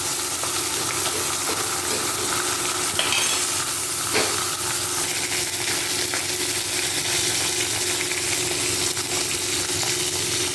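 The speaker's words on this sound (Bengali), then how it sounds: "এরপর আমি বাকি মাছগুলো ভেজে নেব" Fish fry in oil for a Bengali fish curry, giving a steady, close sizzle and hiss with occasional faint stirring or scraping and no talking.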